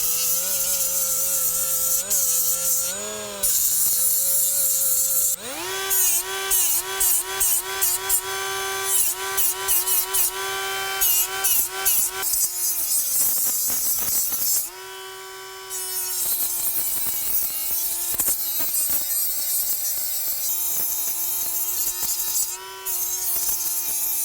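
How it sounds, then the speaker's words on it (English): A hand file is worked over high spots on the thread of a 2000 HP power plant generator impeller, giving rapid, rhythmic rasping strokes with ringing metallic tones, loud and close, with short pauses between bursts. "we're just gonna come in here and file some of these high spots down ahead of time"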